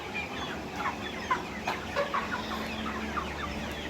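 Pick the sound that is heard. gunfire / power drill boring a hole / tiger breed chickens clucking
tiger breed chickens clucking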